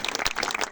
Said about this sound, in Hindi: तो आरटीसी मिलेनियर जगरूप जी के लिए भी एक बार जबरदस्त वाली तालियां होनी चाहिए